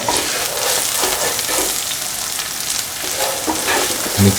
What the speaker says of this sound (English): Let the beans cook for 10 minutes with occasional sauteing.